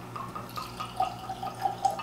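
Whiskey pours from a bottle into a glass, a soft trickling and dripping liquid sound with a few brighter splashy peaks, close and alone without talk.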